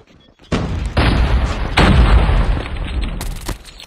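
In a video game shootout, a grenade blast and gunfire hit in quick succession: several loud, heavy bursts stack into a dense rumbling roar that stays intense for about three seconds, ending with a sharp crack.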